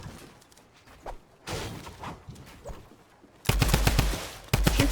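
Gunfire in the video game Fortnite, with rapid loud bursts near the end following quieter thuds and shots, mixed with building and movement sounds.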